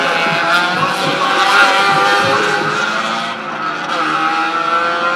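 Race cars on a circuit at Jamwest Speedway, including a Honda Civic and a Mazda RX-7, roar continuously with loud, layered engine drone and brief tire squeal, close and sustained without pause.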